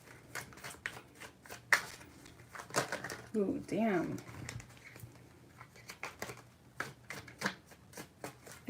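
Tarot cards shuffled by hand in quick, close, crisp riffling bursts with soft slaps, while a person speaks briefly in the middle.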